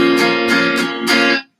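A bar chord strummed on a guitar, with four quick strums ringing in a bright, close sound before being cut off abruptly at the end.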